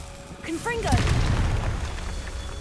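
The Confringo fire spell in the game Hogwarts Legacy, with a quick rising whoosh and tonal zaps followed by a deep rumbling boom that lingers and decays; a brief voice is heard near the start.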